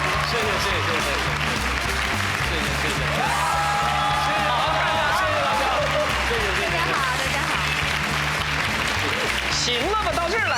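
A studio audience on The Jinxing Show, a Chinese TV talk show, applauds in a sustained, even roar of clapping, with voices talking over it throughout.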